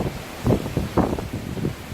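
Hurricane Irma wind gusts buffet a house, a steady roar swelling into several strong surges roughly every half second to second, close and rough like wind striking the microphone, with no voices.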